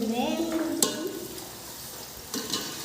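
Puri frying in hot oil makes a continuous close sizzle with a brief clatter, while a voice speaks briefly at the start.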